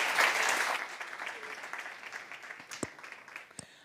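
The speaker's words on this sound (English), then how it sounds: "give a big round of applause." Audience applause on a conference stage at a health and wellbeing summit in Valencia, a broad wash of clapping that is loudest at the start and thins out over a few seconds, with a couple of sharp isolated claps near the end.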